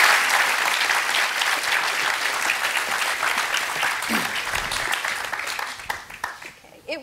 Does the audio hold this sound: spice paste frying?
no